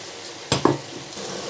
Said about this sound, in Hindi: अब जो दाल रखी है ये भी डालेंगे ताकि ये भी भून ले अच्छी तरह